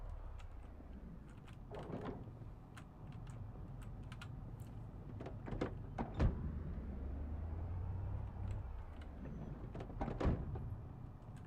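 A van rolls in, in a video game, with a low engine rumble that swells, punctuated by sharp clicks and thumps, like a door sliding.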